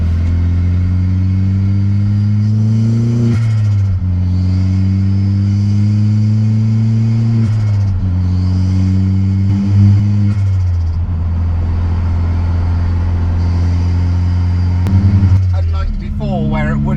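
A Toyota MR2 Mk3 with a swapped 1.8T engine drives along, its engine note rising and falling through several gear-like sweeps, loud and close throughout, with a brief shift near the end.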